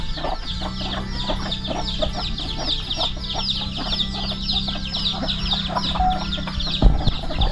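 Chickens clucking steadily on a remote highland hill farm, a flock of fowl close by with a continuous chorus of overlapping clucks and a low steady hum underneath.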